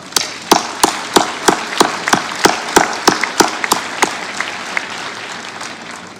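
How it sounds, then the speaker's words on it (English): Applause at a university commencement ceremony for business and graduate school graduates in a fieldhouse, with loud, regular, rhythmic claps prominent over a dense crowd wash, the rhythmic claps thinning as the applause continues. "please give yourself a round of applause for what you have accomplished"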